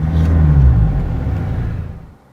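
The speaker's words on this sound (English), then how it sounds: "you get that growl with it as soon as you start the engine up" A 2014 Mercedes-Benz CLA 220d diesel engine starts, rumbles and revs loudly up close with a deep growl, then settles and fades over a couple of seconds.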